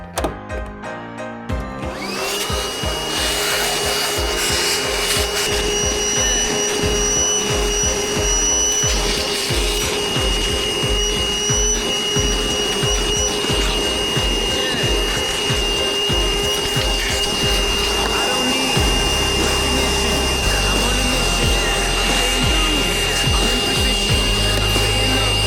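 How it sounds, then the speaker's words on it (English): A vacuum cleaner runs loudly and steadily throughout, its motor whine constant, with scraping and rubbing as the nozzle works over 3W car floor liners. "But I'm going to get the vacuum out."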